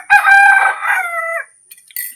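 A rooster crows once, loud and close, a long strained call that trails off, followed by a couple of faint clucks.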